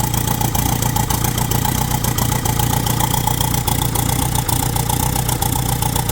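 Car engine idling steadily right after starting on the first crank, a close, loud mechanical hum with a faint rhythmic tick and slight unevenness, no talking.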